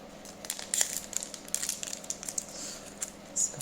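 Foil trading card booster packs from an Elite Trainer Box being torn open, close-up crinkling and crackling of the wrappers in quick irregular bursts, moderately loud.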